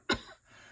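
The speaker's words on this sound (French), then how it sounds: "je tousse un peu" A single short cough from a woman at her desk, one sharp close burst followed by a faint breathy tail in a quiet room.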